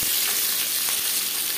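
One or two bay leaves sizzle in hot mustard oil, giving a loud, steady, close hiss of frying with faint crackles and no voices.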